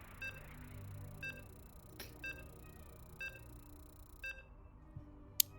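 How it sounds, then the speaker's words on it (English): Short, faint electronic beeps repeat at roughly one-second intervals in a StarCraft 2 tournament match, over a quiet low game ambience with no talking. "Beep, beep, beep."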